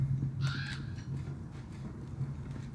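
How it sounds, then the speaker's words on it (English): A stock video game crow caw sounds once, a short harsh call over a steady low ambient hum, followed by faint quieter calls in the background. "That crow sound we just heard is a stock crow sound."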